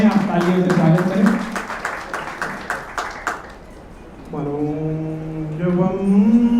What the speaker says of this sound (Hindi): आप तालियों से स्वागत करें।